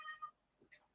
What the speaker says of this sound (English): Confirmation from the cat.